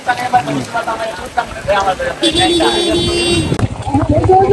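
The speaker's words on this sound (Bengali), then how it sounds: "অনেক বৃষ্টি হচ্ছে।" Heavy rain falls steadily at Banglabandha during a motorbike tour in North Bengal, a dense wash of noise that stays under a person talking throughout.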